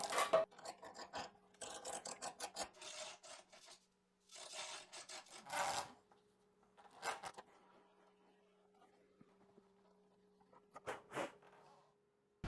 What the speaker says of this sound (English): use the die to thread it out